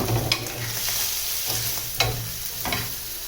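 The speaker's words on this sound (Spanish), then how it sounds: "es la carne, sal, pimienta, la mantequilla, el romero y a la pinche sartén" Rib eye steak with butter and rosemary searing in a hot frying pan: a steady, close sizzle with a few sharp clinks and scrapes of utensils against the pan.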